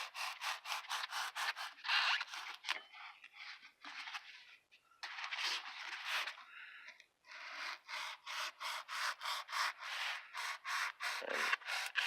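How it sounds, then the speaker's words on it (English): A semi-serrated kitchen knife saws back and forth through foam, making a steady run of close, rasping strokes in even rhythm, with a couple of brief pauses midway. "I am sawing back and forth with my semi-serrated kitchen knife."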